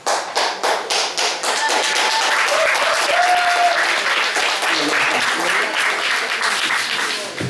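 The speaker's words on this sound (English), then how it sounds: "Give Joel a well-deserved round of applause" An audience gives Joel a loud round of applause: a few distinct claps open into a thick, sustained wall of clapping that holds steady and tapers slightly at the end, with faint voices beneath.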